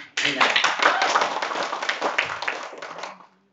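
An audience claps together at a public speaking training session for marketing students, a dense burst of applause that starts abruptly, holds for about three seconds and then fades out.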